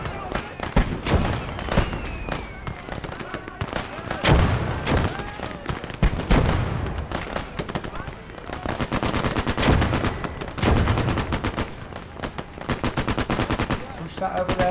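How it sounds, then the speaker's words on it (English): Heavy mortar and gunfire in a World War II battle video game: dense, loud rapid bursts of automatic fire mixed with booming impacts, continuous throughout, with a voice speaking briefly under the din. "That's heavy mortar fire."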